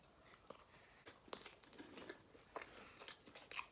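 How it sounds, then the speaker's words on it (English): Crunchy bites and chewing on a Papa John's XXL pizza, close and quiet, with a few sharp crisp snaps standing out against soft mouth sounds and no talk. "So let's have the first bite"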